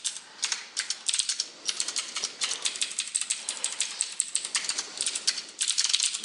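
Rapid clicking of a computer keyboard being typed on, a steady close run of sharp keystrokes with short pauses, heard alone without talk.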